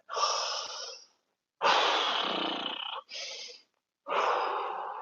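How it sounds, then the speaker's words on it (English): Deep breaths during a side-split stretching session at home: four long, loud close-up inhales and exhales, each lasting about a second, separated by short pauses, with no talking. "take a big deep breath."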